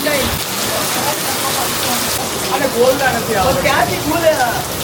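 Heavy rain pours steadily during a downpour in Ahmedabad, a dense continuous hiss and patter close by, while people talk over it in the second half.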